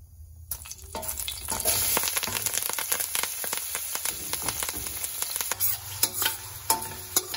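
Onions, green chillies and curry leaves hit hot oil with a sudden loud sizzle, then crackle and hiss continuously while a spoon scrapes and clatters through them.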